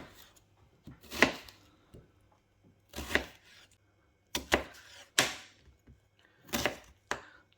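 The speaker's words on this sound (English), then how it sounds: "So just chop them up randomly." Mushrooms are chopped with a knife on a cutting board in a home kitchen, making about six sharp, separate knocks spaced a second or so apart, close and fairly quiet with no talk.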